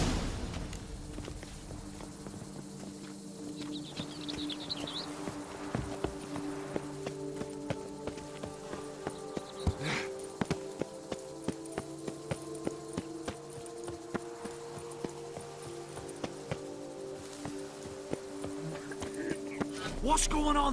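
Horse galloping in The Witcher 3 Blood and Wine, a continuous rhythmic clip-clop of hooves at a steady pace, with game music and voices talking over it.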